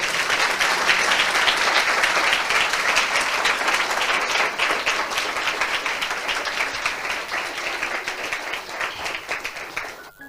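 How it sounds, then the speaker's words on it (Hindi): Loud applause from a church congregation, dense clapping that fills the room from the start and slowly tapers toward the end, with no voices. "मैं चाहता हूं इस वचन के लिए हम जोरदार ताली बजाएं।"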